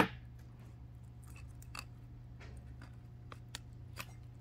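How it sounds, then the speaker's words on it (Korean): Cutting a Cattleya walkeriana orchid while dividing it, faint small snips and clicks scattered through a quiet room with a low steady hum, no talking. "이것도 여기서 잘라보겠습니다."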